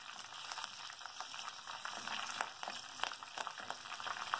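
Green chillies and curry leaves sauté in hot oil for a Kottayam-style fish curry, giving a close, crackling sizzle with irregular sharp pops that grows busier toward the end.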